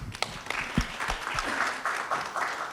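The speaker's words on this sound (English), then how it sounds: "That deserves an applause." Audience applause at a utilities technology conference session in India, a scattered start of claps building into a fuller, fairly even round of clapping, with a little voice beneath.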